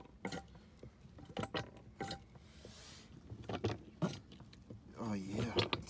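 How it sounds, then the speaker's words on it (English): A hand pump draws engine oil up through the dipstick tube of a MerCruiser 3.0 boat engine, making repeated squeaky sucking strokes and gurgles at an irregular rhythm, close and fairly quiet. "leaving the oil cap on creates a vacuum, and actually you can hear it"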